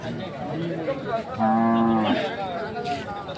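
A loud, close cow moo rises and holds in the middle at a cattle market, with other low cattle calls and faint chatter around it.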